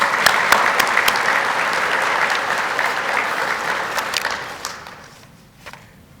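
An audience at a city State of the City address in Biloxi applauds steadily with dense, close clapping that tapers off toward the end.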